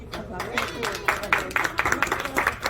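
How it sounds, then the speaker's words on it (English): Applause from the audience at an award ceremony, scattered claps building into an uneven patter of hands while a voice talks over it. "Give a round of applause to Nelly."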